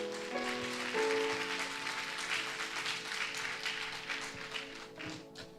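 Congregation applauding during a Sunday church celebration service, steady dense clapping throughout with sustained musical tones underneath.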